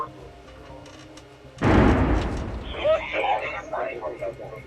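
A single heavy artillery blast booms suddenly after quiet military radio chatter, followed by a rolling rumble as voices continue over it.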